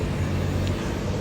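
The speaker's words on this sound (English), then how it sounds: "Please excuse the bus noise in the background." Low, steady rumble of a bus idling or passing in the background, a broad continuous engine and road drone with no clear voices over it.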